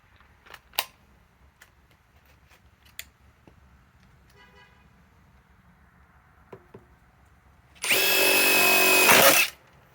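A Metabo HPT sub-compact impact driver running on a small 3 amp battery gives one loud, sustained burst of about a second and a half, preceded by a few faint clicks and knocks.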